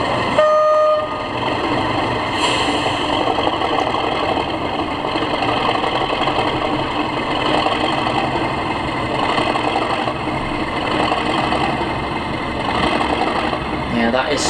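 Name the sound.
Accurascale class 37 model locomotive DCC sound moving, light loco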